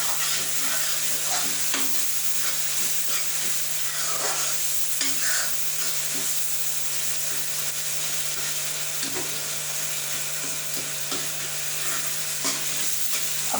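Spinach and egg frying in a pan hiss in a constant, bright sizzle, with occasional scrapes and taps of stirring over the steady crackle and no voices.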